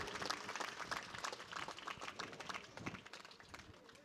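Audience clapping for a children's devotional stage performance at a Gita Bal Sanskar event in Jodhpur, a steady, moderately distant patter of many hands that continues evenly throughout.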